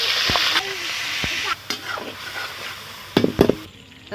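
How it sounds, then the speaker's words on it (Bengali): Salted, turmeric-rubbed shrimp fry in oil in a wok, a moderate sizzle running underneath several sharp clinks and scrapes of a utensil against the pan, close and intermittent. "চিংড়ি মাছগুলো ভেজে নেবো।"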